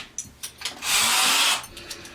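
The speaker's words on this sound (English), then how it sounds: "Put that drill bit right in there." Power drill bores a pilot hole into a wall for a TV wall mount bolt, one steady whirring burst of about a second, preceded by a few light taps and handling clicks.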